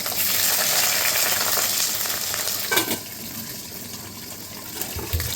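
Chopped okra frying in oil in a pan, a loud, close and continuous hiss of sizzling that eases slightly partway through, with a couple of brief knocks and stirring sounds and no voices.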